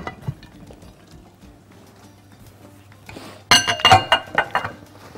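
A metal lid clatters onto a cooking pot of chicken simmering in tomato sauce, a burst of sharp clinks and rattles settling in a few ringing taps after a quiet stretch of faint kitchen noise.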